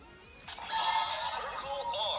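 A short electronic sound effect from a DX Guts Sparklence Ultraman Trigger toy calling the Circle Arm starts abruptly, a bright warbling synthetic tone with sweeping pitch, playing for about a second and a half.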